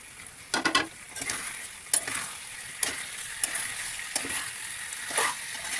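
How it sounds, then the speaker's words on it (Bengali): Fried potato pieces hit a hot pan of chilli potato, a steady oil sizzle broken by several sharp scraping stirs and clinks of a spatula against the pan, close and fairly loud, with no voices. "এবারে ভেজে রাখা আলুগুলো দিয়ে দিলাম।"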